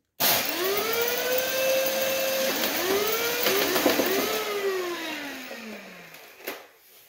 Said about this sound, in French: Petite session de rafale avec le Titan semi-mode à 11 volts